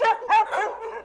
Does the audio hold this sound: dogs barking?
yes